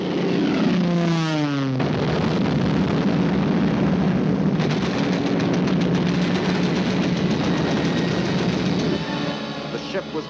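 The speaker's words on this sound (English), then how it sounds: "The ship was bombed and sunk with the loss of American lives" Bombs exploding around the American gunboat USS Panay on the Yangtze during a Japanese air attack: a loud, continuous roar of blasts and rumbling, opening with a swooping whine, with no talk.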